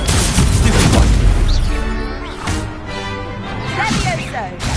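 Confringo spell explosions burst in a Harry Potter video game, heavy booms and crashing impacts layered with game effects, loud and close, while a player shouts excitedly over them.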